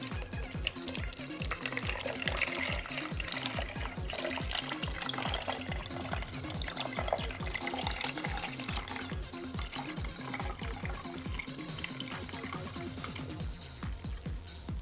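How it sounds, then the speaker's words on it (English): Water is poured steadily into a plastic Treasure X Robots toy box, giving a continuous close splashing and trickling sound. "we will flip over our box of bot and we will pour in a probably considerable amount of water"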